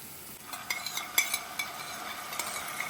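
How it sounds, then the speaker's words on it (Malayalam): Soy, tomato and red chilli sauces being stirred into chilli gobi in a pan, with a soft steady sizzle and a few light scraping clinks from the spoon. The sounds are quiet and close, and there is no talking. "സോയാ സോസ്, ടൊമാറ്റോ സോസ്, അതുപോലെ തന്നെ റെഡ് ചില്ലി സോസ്, ഇത് 3ഉം കൂടി ഇതിലേക്ക് മിക്സ് ചെയ്ത് കൊടുക്കാം."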